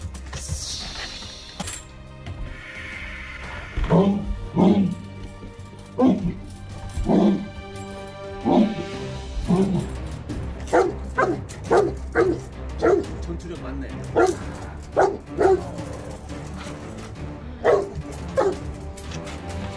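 A large Cane Corso dog barks repeatedly in sharp, deep bursts at irregular intervals, close and loud, with a person talking underneath between the barks.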